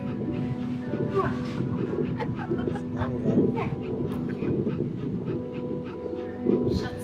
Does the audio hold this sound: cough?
no